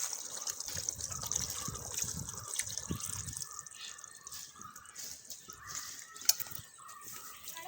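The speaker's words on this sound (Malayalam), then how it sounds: "ഇനി നമുക്ക് പോത്തിറച്ചിക്കുള്ള തേങ്ങാപ്പാൽ ഒഴിച്ച് കൊടുക്കാം." Coconut milk poured into a pot of beef curry in a Kerala kitchen, a soft, steady liquid gush and trickle with light splashes, close and fairly quiet, without talk.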